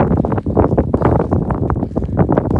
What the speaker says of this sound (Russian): с перевала дует неплохо